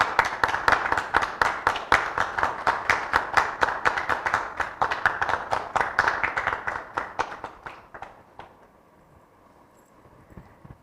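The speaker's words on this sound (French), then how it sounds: "On applaudit très fort et on le présentera tout à l'heure." A studio audience on a talk show gives a guest rhythmic, unison clapping, with a steady beat of sharp claps that gradually slows and thins before dying away into near silence.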